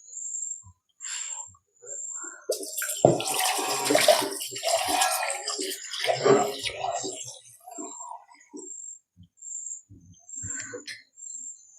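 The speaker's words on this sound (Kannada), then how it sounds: "ಇನ್ನು ಸ್ವಲ್ಪ ನೀರು ಹಾಕ್ತೀನಿ." Water being poured into a pan of egg curry masala, a rushing splashy pour of several seconds near the mic, then quieter stirring and clinks, with a faint repeating high chirp in the background.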